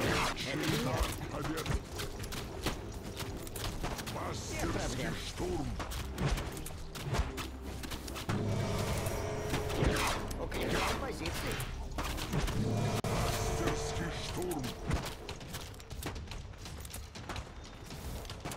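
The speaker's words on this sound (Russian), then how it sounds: "Выстрел." Gunfire and explosions in the online battle game Prime World, with repeated shots, thuds and whooshes over a busy in-game soundscape, while a commentator talks throughout.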